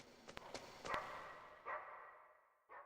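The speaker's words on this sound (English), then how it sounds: "Listen carefully, you can hear him howling." Wolf dog in the video game Metal Gear Solid, heard as a few short, sharp barks and yips from off to one side, fairly faint, with brief pauses between calls and quiet gaps in between.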